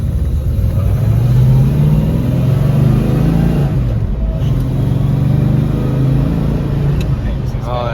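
A 1970 Chevrolet Chevelle engine while driving, a loud, close, steady low rumble with the pitch rising and dropping as it revs through gears, and faint talk near the end.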